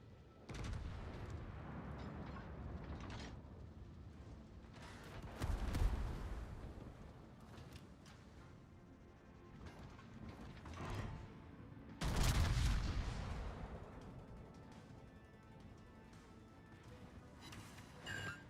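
Naval guns in a warship game go off in scattered heavy blasts and deep rumbling booms over about eighteen seconds, with the loudest salvos near the start and about two-thirds of the way through, over a steady background roar and without speech.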